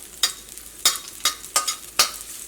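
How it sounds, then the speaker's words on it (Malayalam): Garlic frying in hot sesame oil, with five sharp bursts of sizzling stirring spaced roughly half a second apart over a quieter steady crackle, close and moderately loud, no voices. "ഈ വെളുത്തുള്ളി ഇതിനകത്ത് കിടന്നിട്ട് മുരിഞ്ഞിട്ട് നല്ലൊരു ഗോൾഡൻ കളർ ആവട്ടെ"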